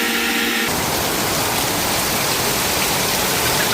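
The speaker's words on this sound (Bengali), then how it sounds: "দেখেন অবস্থা, বৃষ্টি নামতেছে" Rain falls steadily in Saudi Arabia as a dense, even hiss that holds through the whole stretch after a brief quieter start, with no voices over it.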